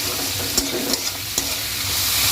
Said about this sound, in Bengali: নাড়াচাড়া করে আর একটু ভাজা ভাজা করে নেবো